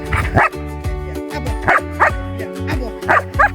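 A dog barks loudly in short bursts, several deep woofs spaced out over a few seconds, close by.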